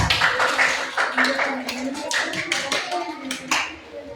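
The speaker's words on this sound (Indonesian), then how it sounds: "Tepuk tangan dulu anak-anak untuk kelompoknya Keiza" Scattered hand clapping from a group of children in a maths classroom, uneven and moderately loud, with some voices chattering underneath.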